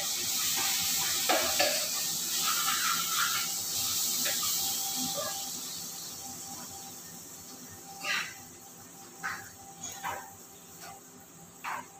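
Onion fries in a pan, a gentle hissing sizzle that fades slightly, punctuated by several sharp scraping stirs and spoon taps toward the end.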